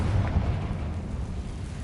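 A Confringo blasting spell detonates in Hogwarts Legacy, producing a continuous, loud, booming rumble with a slight flare near the start that stays steady throughout, with no voices.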